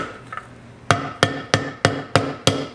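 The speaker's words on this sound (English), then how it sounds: "I like to put my hammer on the side. I don't use the head. It just hits the PVC a little bit more even." A hammer, struck with its side rather than the head, drives a PVC pipe fitting into place during a Whisperflo pool pump repair: seven sharp, evenly spaced knocks, loud and close, with no talk.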